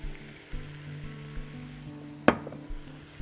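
Onion, garlic and hot pepper frying in oil, a soft steady sizzle with one sharp clack of a utensil against the pan midway, no talk.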